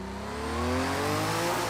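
A race car in Project CARS 2 under hard braking, its engine note sliding down in pitch with a tonal whine and rising tire noise, loud and close, with no talk.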